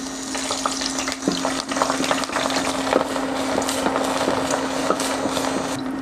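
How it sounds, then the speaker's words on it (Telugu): Cumin seeds and curry leaves fry in hot oil with a steady close sizzle and scattered sharp pops and crackles, no voices. "అలాగే కొద్దిగా కరివేపాకును కూడా వేసుకొని వీటిని కాసేపు వేగనివ్వాలి"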